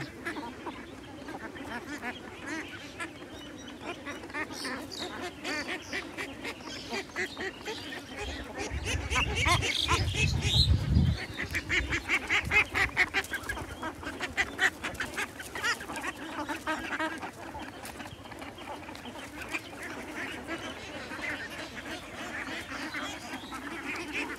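A flock of ducks on a duck farm quacking continuously, overlapping calls that swell louder midway, with faint background talk.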